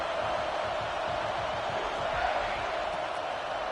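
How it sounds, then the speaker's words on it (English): Steady, full crowd roar from a stadium in an NCAA football video game, a continuous loud wash of cheering with no break. "Listen to the crowd energy here in the early going."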